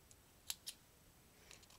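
Twenty-pound monofilament fishing line is snipped, giving a few sharp, faint clicks close by in an otherwise quiet room.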